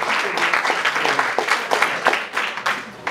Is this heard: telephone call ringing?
no